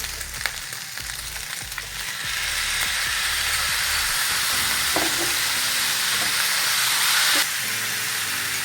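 Meat fries in a hot pan for a Ukrainian bigus dish, giving a steady, loud, close sizzle and hiss that swells and stays constant, with a few faint clinks and no talking.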